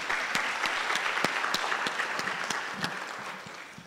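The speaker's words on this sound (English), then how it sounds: "The round of applause." An audience at an academic lecture gives a round of applause, a smaller crowd with distinct individual claps standing out, steady and then thinning slightly toward the end.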